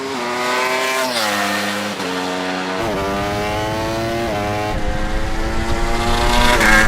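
An Audi race car accelerates hard on a track against a Ducati, its engine roaring and climbing through gears with sharp shifts, loud and continuous.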